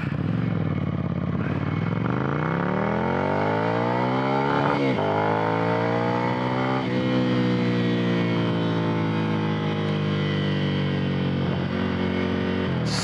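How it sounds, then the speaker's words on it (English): Ducati Monster 797 motorcycle with L-twin engine accelerating hard, loud and close, revs climbing through several gear shifts with brief dips between, a rising buzzy engine note that never lets up. ".797 definitely has some great acceleration for what it's worth. That little L-twin, wonderful."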